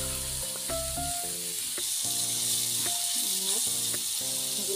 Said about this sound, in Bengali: এগুলাকে আমি এভাবে লাড়াচাড়া করে আমি সবজিটাকে ভেজে নেব।